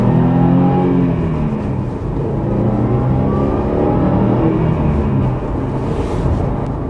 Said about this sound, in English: That EJ motor, to me, is probably one of the best sounding turbocharged 4-cylinder motors